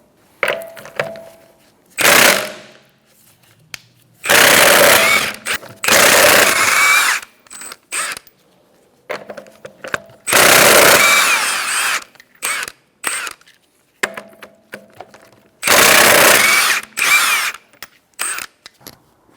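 A power tool with a 21mm socket spins off the lug nuts on a Kia Soul wheel, loud close whirring and rattling bursts of a second or two, repeated about eight times with quiet gaps between.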